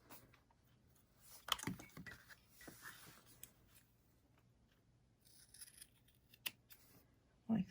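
Scissors trimming the bottom off a handmade Christmas craft gnome, a few faint, close snips and rustles separated by quiet pauses.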